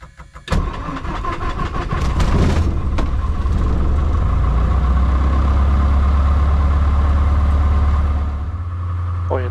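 Light aircraft propeller engine cranking and catching with a sharp start, then settling into a loud, steady, low idle rumble close by for several seconds on an airfield.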